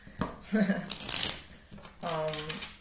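A tarot-style deck is handled as cards are laid out for a reading, with brisk, close riffling and flicking card sounds in short bursts and a voice briefly heard.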